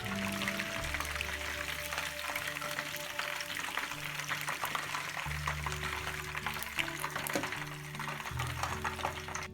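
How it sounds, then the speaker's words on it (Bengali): Chicken tempura pieces sizzle and crackle steadily in hot oil for Japanese tori ten, a dense continuous frying hiss with scattered pops, while a low background tone runs underneath. "এভাবে করে সবগুলো তরিতে আমরা ভেজে ফেলবো"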